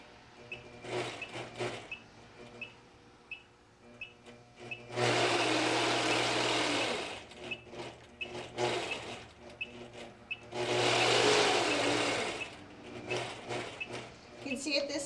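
A sewing machine stitches along a quarter-inch guide line in two long, loud bursts of rapid whirring, with shorter start-stop runs and handling noises between them.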